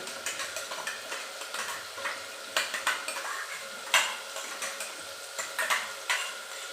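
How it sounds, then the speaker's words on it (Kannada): Hot oil sizzles while a utensil scrapes and taps against the pan in quick, irregular strokes, close and steady, with no talking. "ಇದೆರಡು ಚೆನ್ನಾಗಿ ಫ್ರೈ ಆಗಬೇಕು ಹಸಿ ವಾಸನೆ ಹೋಗಿ ಚೆನ್ನಾಗಿ ಫ್ರೈ ಆಗಲಿ"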